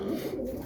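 Pigeons coo softly in a loft, a steady low murmuring close by with no talk over it.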